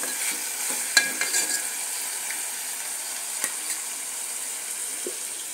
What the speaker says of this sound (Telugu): కొత్తిమీర, ఎల్లిపాయలు నూనెలో వేయించాలి.